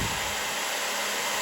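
Hair dryer blowing hot air onto a sticker on an old cardboard Game Boy Advance box, a steady, loud, broadband rushing whoosh with a high whine, continuous throughout with no talking.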